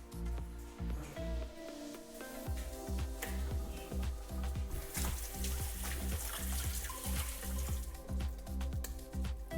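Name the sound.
tap water running while wetting hands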